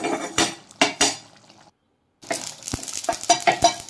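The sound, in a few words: dry-roasting mustard and poppy seeds in a pan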